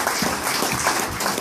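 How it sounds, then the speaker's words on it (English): An audience at a motorbike show claps and applauds in a brief, dense burst of steady clapping heard close by. "Ladies and gentlemen, what a big round of applause for"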